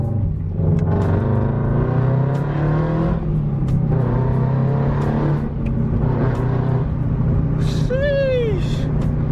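A tuned Toyota GR86 with aftermarket headers revs while driving, its exhaust rising and falling through several pulls with a steady drone, and a voice talks over it.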